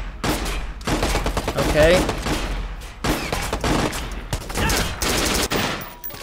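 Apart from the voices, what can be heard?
grenade explosions and gunfire in video game Watch Dogs: Bad Blood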